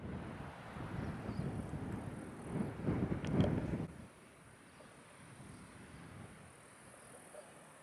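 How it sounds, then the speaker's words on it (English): Strong wind gusting across an open mountain trail near a big ski lodge, a broad roaring rush that swells loudest mid-way then drops to a steadier, softer buffeting against the microphone. "Very windy day."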